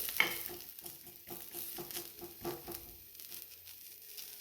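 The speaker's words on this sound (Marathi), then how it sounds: "आता हे आपलं आणखीन थोडंसं भाजून घ्यायचं आहे" Green chillies roasting in a pan, a soft low crackle with light irregular stirring and scraping throughout.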